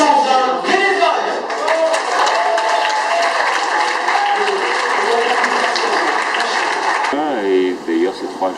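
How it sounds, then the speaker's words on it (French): An outdoor book festival crowd gives a long, dense round of applause for its 120 volunteers, a loud continuous clatter of many hands that holds steady before tapering off, with voices mixed in. "je vous demande l'applaudissement très fort pour nos 120 bénévoles"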